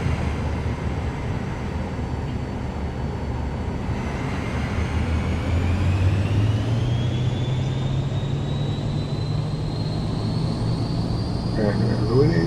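Aircraft engine powering up for a takeoff roll at Biggin Hill, a steady loud cabin drone whose whine climbs gradually in pitch as power builds, with a voice talking over it.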